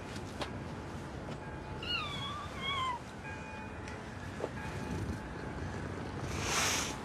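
A cat meows a few times in a short rising-and-falling series, clear over steady background noise, with a brief brighter burst near the end.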